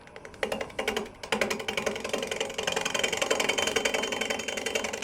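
A wood lathe spins a fork-in-the-limb bowl blank at roughly 400 RPM, giving a steady close mechanical whir with a light rhythmic rattle throughout.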